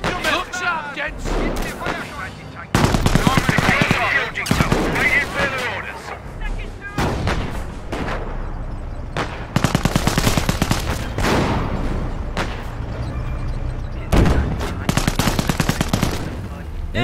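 Heavy gunfire and machine-gun bursts from a World War II battle at Hill 112 in Company of Heroes: Opposing Fronts, coming in loud repeated volleys with brief gaps between them and voices shouting orders over the din.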